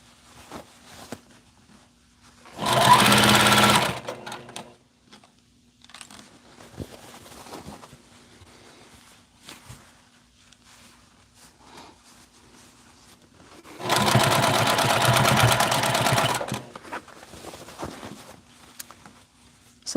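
A sewing machine stitches folded fabric in two short bursts of close mechanical whirring, the second longer, separated by quiet stretches of faint handling and rustling.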